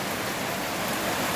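Heavy rain pours down steadily on a flood-prone spot with small huts, a dense, even hiss that holds without break and with no voices.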